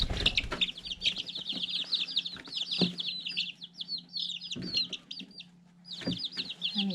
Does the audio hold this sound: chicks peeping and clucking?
yes